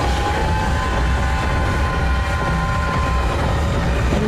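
A train in Alice: Madness Returns rumbles past loudly and steadily, a constant heavy rolling roar with faint rail clatter and tones, and no talking.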